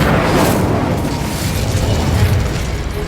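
A fiery Incendio spell blast in the Hogwarts Legacy video game, a loud continuous roaring, booming burst that fills the whole stretch with dense low rumble and crackle.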